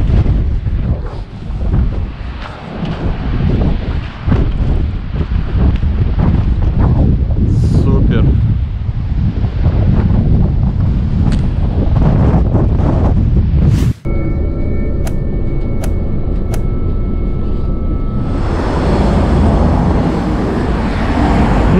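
Wind buffets the microphone beside the Atlantic Ocean on the Portuguese coast near Cascais, with a loud, steady roar of surf and gusts throughout; a brief dropout midway, then tonal ringing and hiss near the end.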